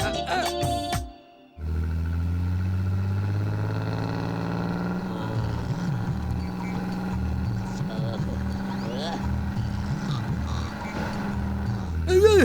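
A bus engine pulls along slowly, its low, steady drone running almost the whole way after a short dip near the start, with faint voices and noise over it.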